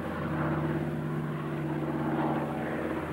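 Canso flying boats droning over a Newfoundland forest fire, a steady loud engine hum, fairly near, with no voices.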